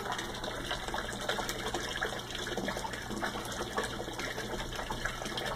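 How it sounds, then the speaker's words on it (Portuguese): A bell siphon draining water from an aquaponics grow bed makes a steady, continuous rushing and gurgling flow, close and fairly loud, with no voices over it. "tá sifonando a água"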